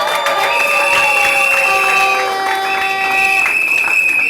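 A crowd of wedding guests cheers and applauds at a civil ceremony as the father signs, a loud continuous mass of voices and clapping with shrill whistles or ululating tones running through it.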